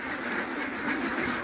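Ducks on a farm of about 250 birds quacking in a dense, continuous chorus, close and loud throughout the short stretch, with no talk.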